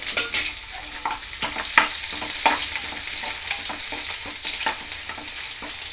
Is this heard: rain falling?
no